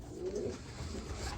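Satinet pigeons coo in a loft, a soft low warbling call rising briefly near the start over a faint background hum, close by and without any talking.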